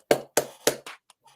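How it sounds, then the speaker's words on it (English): A handful of separate claps, about four sharp hand strikes close by followed by a couple of faint taps, greeting a podcast guest; thin rather than a full crowd. "Can we give a round of applause for JP?"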